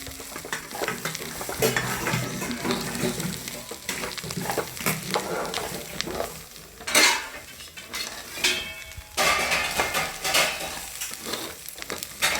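Homemade spices for village-style masala rice go into hot oil in a pan and are stirred continuously, with sizzling, spoon scraping and clinks against the metal.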